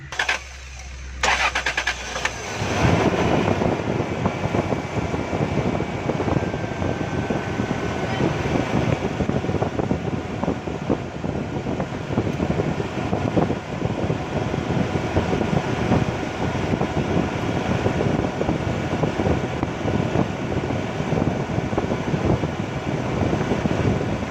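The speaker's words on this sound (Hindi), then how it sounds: "अब हम गाड़ी स्टार्ट कर रहे हैं।" A Toyota Prado engine idles steadily after starting, a loud, constant rumble with a brief startup burst at the beginning and no talking over it.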